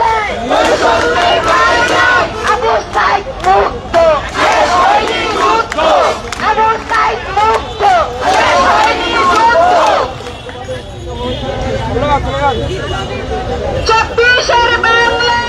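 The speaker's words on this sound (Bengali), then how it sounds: "আন্দোলনকারীরা বিভিন্ন স্লোগান দিচ্ছেন" Protesting teachers in Dhaka chant slogans in loud, rhythmic crowd unison, with call-and-response bursts that continue steadily, briefly drop to a noisy lull, then swell again.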